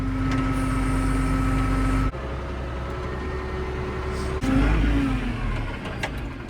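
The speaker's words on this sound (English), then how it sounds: "Beautiful silence when you first shut off a diesel engine." A diesel engine runs steadily up close on a farm, its loud droning hum shifting tone twice during the run.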